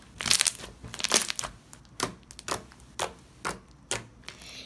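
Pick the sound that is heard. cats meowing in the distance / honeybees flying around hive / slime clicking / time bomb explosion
slime clicking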